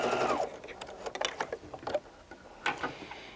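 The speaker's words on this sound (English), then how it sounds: "I'm going to sew from the fold down" A sewing machine runs a short, quick seam down from the fold at the corner of a shirt collar, giving a light, uneven mechanical ticking and whirring at moderate level with no voice over it.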